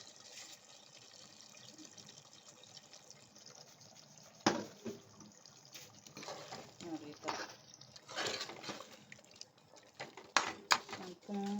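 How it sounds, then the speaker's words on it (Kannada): Water is poured into a pan of simmering chicken gravy, with splashing, bubbling and pouring sounds growing louder midway while someone talks over it. "ಗ್ರೇವಿಗೆ ಎಷ್ಟು ಬೇಕೋ ಅಷ್ಟು ನೀರು ಆ್ಯಡ್ ಮಾಡ್ಕೊಳ್ಳೋಣ"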